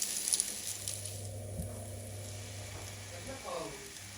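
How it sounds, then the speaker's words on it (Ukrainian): Oil sizzles and crackles steadily as pumpkin potato pancakes fry in a pan, with a low hum and a few faint clinks in the background. "На добре розігріту сковорідку наливаємо олію та викладаємо дерунчики"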